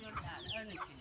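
A chicken clucks close by, a quick run of short, bright clucks lasting about a second, in a rural mountain setting.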